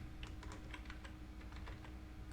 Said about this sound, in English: confirm by typing delete